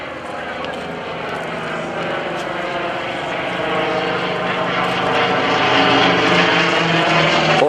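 A General Motors-built FG-1D Corsair propeller fighter performs at an airshow, its radial engine a loud, continuous droning roar that swells slightly as it climbs and rolls, with someone talking over it.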